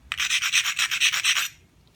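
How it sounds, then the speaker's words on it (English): A knapped stone edge being ground with a steady run of about a dozen rapid, rhythmic rasping strokes, close and fairly loud, stopping abruptly, with no voices. "And I can grind it a little."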